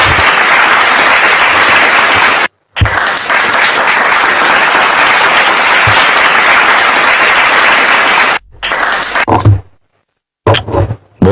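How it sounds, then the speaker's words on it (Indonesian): Sustained loud applause from a live audience, dense and steady for several seconds, cut by brief silences and ending in short bursts of clapping. "Tepuk tangan."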